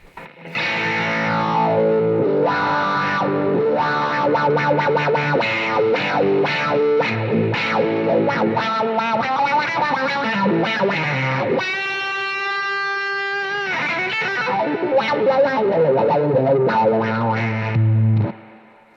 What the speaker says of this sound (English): And now the order is guitar overdrive, wah-wah into the clean amp.